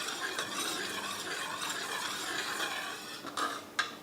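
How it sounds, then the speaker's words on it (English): A spoon scrapes and swirls while stirring extra sugar into a raindrop cake mixture in a bowl, a soft continuous clinking and scraping that ends in a couple of sharper taps. "I added another tablespoon just to see, and now I'm mixing it"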